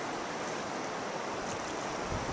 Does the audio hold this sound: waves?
yes